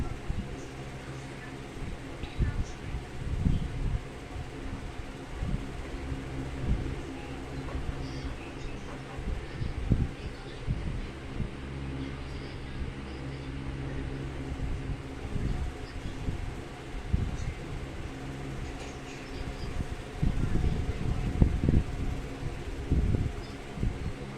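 An electric fan blows air steadily during hot weather in a home, a continuous low rumbling whoosh with faint background speech.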